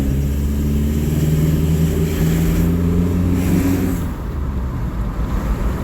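A Toyota Innova Reborn diesel fitted with an RGN titanium full-system exhaust revs up, a loud close engine drone holding steady for several seconds, then dropping back toward idle.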